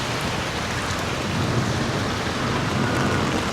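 Steady summer rain pours down in Da Nang, a dense even hiss with a low rumble beneath it, constant and close throughout with no voices.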